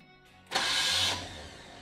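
A starter motor briefly cranks a seized car engine, a single loud burst of whirring grind lasting about half a second before fading into a low lingering hum.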